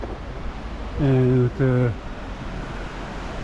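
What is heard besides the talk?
water flowing underneath a covered bridge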